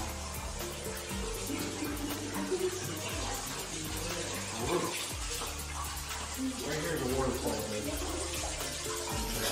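A small waterfall at a zoo pours and splashes continuously at close range, a steady rushing trickle that fills the whole clip.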